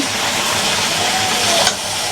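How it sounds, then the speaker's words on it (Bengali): Potato and bottle gourd curry sautéing with spices in a pan, a steady close sizzle and hiss with light stirring scrapes throughout, no voices. "আলু আর হচ্ছে লাউ মশলা দিয়ে কষানো হচ্ছে।"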